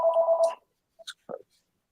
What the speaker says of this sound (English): You still got a house phone, bro?